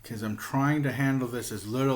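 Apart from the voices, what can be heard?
None of the usual background noises is heard.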